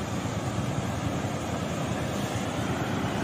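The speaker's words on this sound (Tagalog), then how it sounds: "Medyo malaking alon guys" Continuous loud rush of large sea waves and surf mixed with strong wind buffeting the microphone, no voices, a dense roar throughout.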